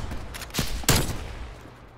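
Gunfire in a video game, heard as two loud sharp reports close together, the second stronger, each leaving a short fading tail.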